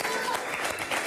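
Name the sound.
audience applause on a TV show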